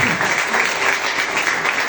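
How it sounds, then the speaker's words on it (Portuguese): A church congregation claps during a teaching service, a loud continuous burst of many hands sustained evenly throughout. "Você pode aplaudir Jesus por isso?"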